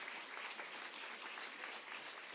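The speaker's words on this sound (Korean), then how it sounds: "크게 박수로 격려해 주시면 감사하겠습니다" Church congregation applauding during a year-end Sunday service retirement ceremony, a soft, distant, even patter of many hands clapping without pause.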